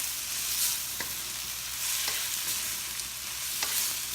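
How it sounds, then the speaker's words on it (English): Shrimp paste being stirred into laing, a Filipino taro-leaf and coconut milk dish, in a pan, giving a steady soft sizzle with a few light scrapes of the spoon, close and fairly quiet, no voices. "we will add our shrimp paste or bagoong. Then we'll mix it."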